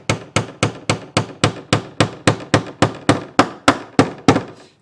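Hammer tapping a pin into a mud flap mount on a vehicle, fifteen sharp, evenly spaced metallic knocks in a steady rhythm, close and loud with no talking.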